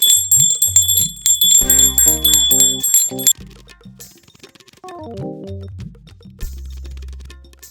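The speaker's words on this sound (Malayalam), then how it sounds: "അമ്മ ഇങ്ങനെ മണിയെല്ലാം മുട്ടുന്നത്" A small bell is struck repeatedly in quick, ringing strikes with bright sustained tones, interleaved with other clear melodic chimes and short pauses between bursts.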